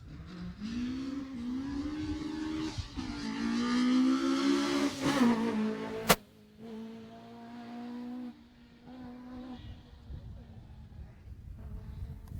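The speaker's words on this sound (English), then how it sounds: "that there was John Ibarrel and Peter Joy in that Peugeot coming around that corner" A Peugeot rally car at the Jersey Rally comes around a corner, its engine rising in a loud, strained rev, then fading to a lower drone as it moves off, with a commentator's voice running over the engine throughout.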